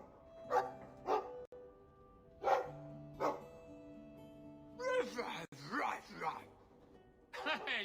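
Mabari war dog in Dragon Age II barking in short, separate woofs, several spaced across the span and mixed with game voices and ambient sound.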